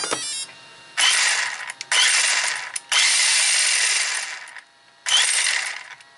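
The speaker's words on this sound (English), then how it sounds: "that slight rattling that you hear is the Techno drive shaft that is on this RC" Bursts of rapid mechanical rattling from the drive shaft of a Traxxas Slash 4x4 RC car, several loud stretches separated by short pauses, close by.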